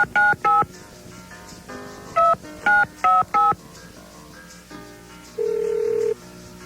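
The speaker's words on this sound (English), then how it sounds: "All right, we're dialing her up." Telephone keypad being dialed, several short DTMF tone beeps in quick clusters followed by a longer steady tone, loud and close, with no talk.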